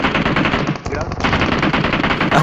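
Rapid automatic gunfire rings out from behind the player in a shooting video game, a loud, dense burst of overlapping shots with a brief gap before the firing resumes.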